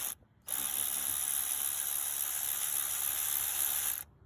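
A Shield Pro cordless ratchet loosens bolts near a car's coolant overflow tank, one continuous buzzing whir lasting about three and a half seconds between brief quiet moments, loud and close.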